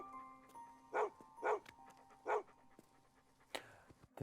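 A dog pants in a film scene in short, breathy bursts, three evenly spaced puffs followed by a later one, close and fairly quiet against a hushed background.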